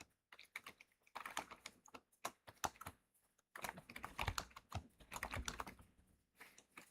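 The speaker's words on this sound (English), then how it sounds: "See, why am I typing all in capitals?" Someone types on a computer keyboard in bursts of rapid, clattering keystrokes with short pauses between, close and fairly quiet.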